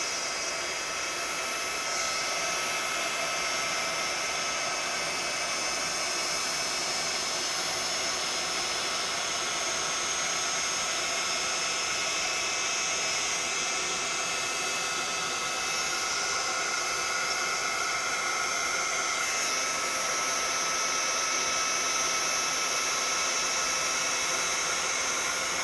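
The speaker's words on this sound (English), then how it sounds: "just the heat gun." A heat gun blows steadily over epoxy resin beach art to form cells and lacing, a continuous airy hiss at moderate volume that persists unbroken for the full duration with no talking.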